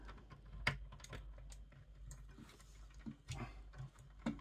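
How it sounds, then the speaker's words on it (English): Small plastic model parts from a Transformers Optimus Prime build kit snapping and clicking into place, a handful of sharp, close, quiet clicks scattered irregularly over a faint background. "And then these parts are going to click in."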